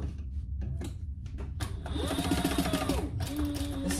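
Sewing machine running a basting stitch on a purse, short bursts of fast mechanical stitching and then a longer steady run, close and clear.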